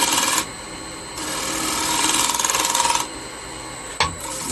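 Turning tool cutting a wooden bowl on a lathe with a pull cut: a loud, continuous scraping rasp that pulses as the tool rides the spinning wood, briefly easing between passes, with no talk.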